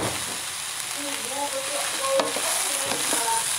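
Tofu sisig sizzles in a pan under a steady, close frying hiss while being stirred, with soft scraping strokes and a brief louder clack midway.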